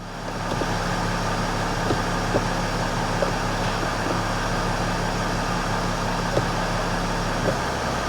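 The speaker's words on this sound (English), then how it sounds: "it's in drive" A Mercedes ML350 engine runs steadily with the transmission in drive, a low continuous hum with faint mechanical ticks throughout, heard close and alone.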